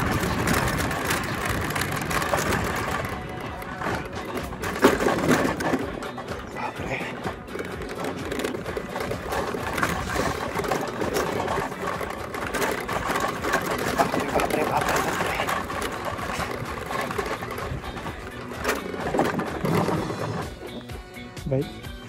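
An old 30-year-old Bajaj Chetak scooter engine runs steadily and close by with a buzzing, rattling note, while people talk over it throughout.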